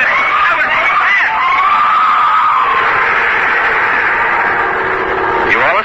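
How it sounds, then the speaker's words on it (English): A scream in an old-time horror radio drama, a sustained, shrill cry that rises and holds, loud and continuous throughout with no speech over it. "its shattering built up into a scream"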